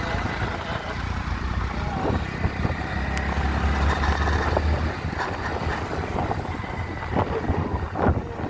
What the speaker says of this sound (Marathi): हा चालला सिमेंटचा ट्रक